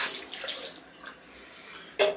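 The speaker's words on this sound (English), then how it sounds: "Rinse out my graduate." Graduated cylinder for film developing rinsed under a running tap, a brief close splash and gush of water that fades, then a sharp final splash.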